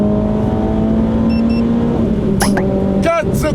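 Renault Clio 3 RS with a naturally aspirated engine and manual gearbox pulls hard from 80 to 120 km/h, its engine drone rising in pitch inside the cabin, with brief sharp squeaks near the end.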